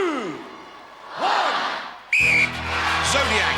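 Referee's start whistle at an International Gladiators event, a single sharp loud blast cutting in after quieter arena noise, followed by crowd sound and voices.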